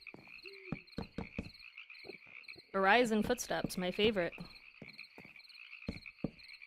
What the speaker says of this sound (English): I like you can hear the frogs.